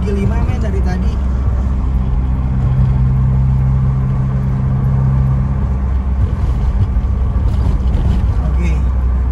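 A 1991 BMW E30 with the M40 engine cruising steadily in fifth gear on a toll road, giving a continuous low engine drone with road and wind noise inside the cabin, heard alone without talk.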